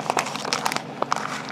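Plastic bag packaging from an iGear Crystal Sound lavalier lapel mic crinkles and crackles up close in a steady run of sharp rustles, with no voice over it.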